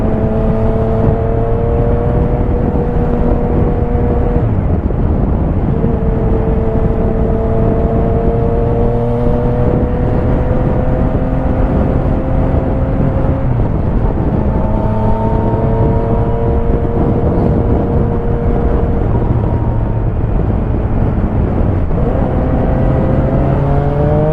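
A big three-wheeled motorbike with two wheels at the front riding steadily, its engine droning and whirring loud and continuous, pitch rising and dipping with gear changes, no voices.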